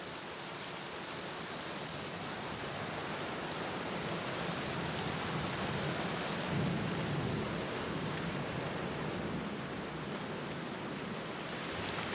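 Rain falling in the PC adventure game The Black Mirror (2003), a dense, even downpour hiss with a low rumble of distant thunder swelling briefly midway, no voices.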